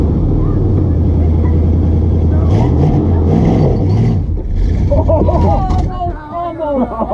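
An Itasca motorhome with spinning tires being driven, its engine droning loud and close and rising and falling, with people talking over the rumble as it moves.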